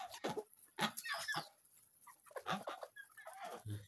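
Several fancy backyard hens, including naked-neck and crested birds, cluck and squawk close by in short, irregular bursts separated by brief quiet gaps.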